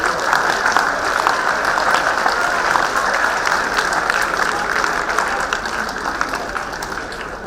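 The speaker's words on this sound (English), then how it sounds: "to welcome sir with a round of applause." Audience at a fintech conclave applauds to welcome a guest, a full, sustained round of clapping from many hands that stays loud and even for over seven seconds before easing off slightly.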